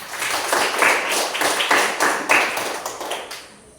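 Students in a classroom applaud a group for its score with a few seconds of close, crisp clapping that pulses in uneven waves and then quickly thins out and stops.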